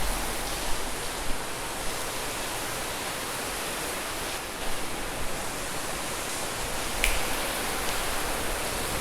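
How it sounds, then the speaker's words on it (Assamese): Steady rain falls with a constant broadband wash of drops, moderately loud and unbroken throughout, with no voices over it. "বৰষুণ দিছে"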